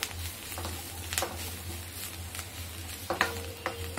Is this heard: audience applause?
no